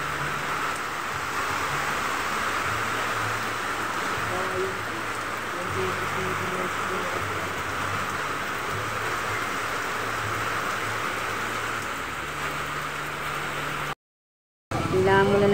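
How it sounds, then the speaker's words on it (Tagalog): Steady heavy rain pours down outdoors on a road, a dense continuous hiss with a low engine rumble underneath, loud and unbroken apart from a short gap near the end. "Ito na guys yung ulan."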